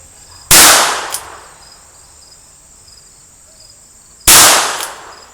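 Two loud, close .22 LR shots from a Taurus Tracker 990 revolver fired at a target 12 yards away, several seconds apart, each a sharp crack with a short decaying tail over a steady high insect-like drone.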